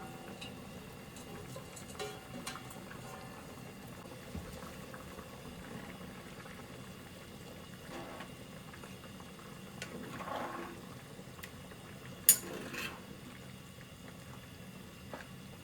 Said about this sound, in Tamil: தண்ணி இப்போ கொதிச்சோனையே கொதிக்க ஆரம்பிச்சிச்சு